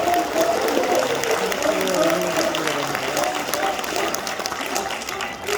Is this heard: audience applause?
yes